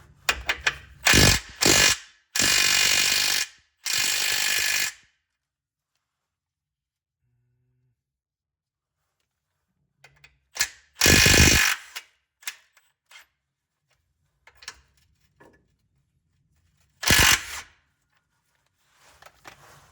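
Short bursts of a tool working on the differential bolts of a Mazda Miata NA/NB during a Torsen LSD swap, several quick close rattling runs separated by quiet pauses, with faint clicks and handling noises between them.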